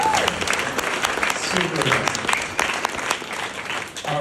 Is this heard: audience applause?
yes